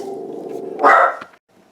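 A close dog gives a low, steady growl and then one loud, short bark before falling quiet.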